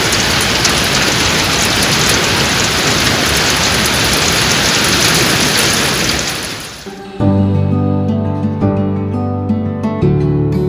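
Heavy hail and rain hammer down in a dense, loud roar that suddenly cuts off, leaving a few scattered knocks and a low ringing rumble afterwards.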